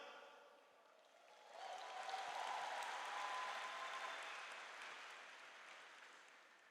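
Applause from an audience at a Catholic talk swells after a quiet start, a dense steady patter of many hands clapping that lingers and slowly fades.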